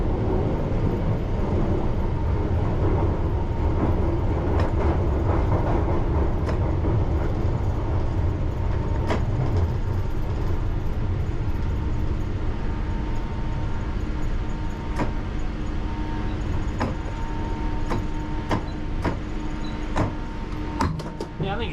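A London Underground train rolls into a platform, a steady loud rumble of wheels and motors with squeals and clicks from brakes and track as it slows.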